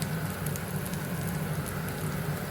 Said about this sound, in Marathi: आता कांदा एवढाच परतणार आहे